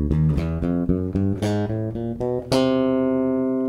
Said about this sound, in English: So let's try playing that line using the four finger picking technique.